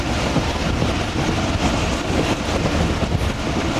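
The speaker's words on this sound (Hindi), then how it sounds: "दोस्तों तो ये आ रही है 10 डाउन अल्लामा इकबाल एक्सप्रेस बिल्कुल हमारे सामने से।" The 10 Down Allama Iqbal Express, a Sialkot–Karachi passenger train, rolls past close by with a loud, dense rumble and rattle of wagons and some wind buffeting, no talk.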